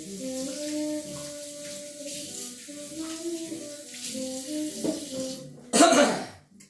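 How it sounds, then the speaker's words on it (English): Hands are washed under a running kitchen tap during meatloaf preparation, a steady hiss of flowing water over a faint tonal background, ending with a sudden loud cough or throat clearing. "So let me wash my hands real fast."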